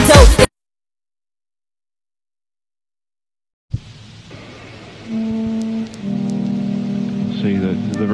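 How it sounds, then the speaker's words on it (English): Steady rain hisses evenly after a silent gap, soft and constant, with a low tonal drone running underneath. "See, the rain is nice, but see, I don't really like getting wet."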